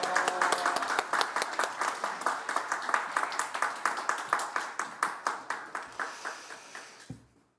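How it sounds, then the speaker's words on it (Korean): A church congregation claps together during a Sunday worship service, the claps settling into a steady synchronized rhythm that gradually fades before stopping abruptly. "박수로 맞겠습니다"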